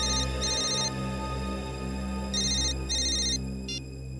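A mobile phone rings with a repeating electronic ringtone in two bursts, steady and fairly close, over a low background hum with no talking.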